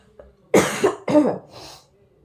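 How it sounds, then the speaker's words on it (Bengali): Two close, raspy coughs, one right after the other, followed by a soft breathy trailing sound, nearby in a quiet room. "বেশি কন্টিনিউয়াসলি কথা বলে এরকম কাশি হয়ে উঠছে"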